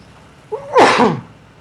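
A single loud sneeze close by, a short breathy intake followed by a sharp burst.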